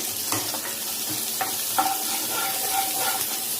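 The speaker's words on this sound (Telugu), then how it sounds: "ఇది కాస్త ఫ్రై అవ్వాలండి." Chopped onion fries in about two tablespoons of oil in a pan, a steady close sizzle broken by scraping and clinking as it is stirred now and then, with no talking.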